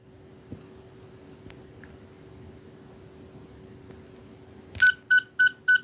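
A 14th Doctor sonic screwdriver toy gives four short, evenly spaced electronic beeps, loud and close, after a few seconds of near silence with a faint steady hum and small clicks.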